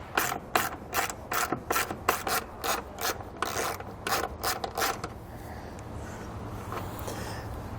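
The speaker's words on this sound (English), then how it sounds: "I'm going to remove the nut using a 10mm socket." A 10mm socket ratchet clicks in quick repeated bursts while loosening a nut on a towed-vehicle wiring stud, close and crisp for about five seconds before fading into quiet background noise.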